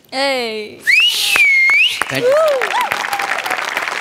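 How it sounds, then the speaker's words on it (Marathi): A loud shrill whistle rises and falls over a burst of applause and cheering from a comedy show's audience. A voice is briefly heard at the start. "तुझ्यासाठी परत एकदा शिट्टी"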